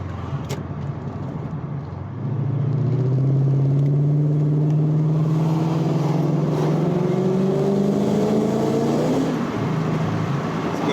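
An Infiniti Q45 car's engine and exhaust while driving: a deep, throaty drone rises through the gears with rising revs and a shift near the end, close and steady, no speech.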